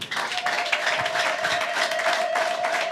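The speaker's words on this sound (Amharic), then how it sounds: "አጨብጭቡ ለጌታ።" Church congregation applauding together, a steady broadband wash of clapping across the whole stretch, with a sustained tone running beneath it.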